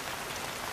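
Rain falling in a cutscene from the Samurai Warriors 4 video game, a brief, even hiss of steady rainfall with no voices.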